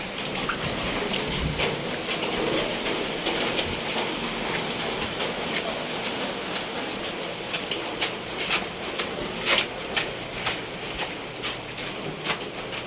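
Steady, dense downpour of heavy rain during flooding, a constant broadband hiss with scattered louder drips and splatters, no voices.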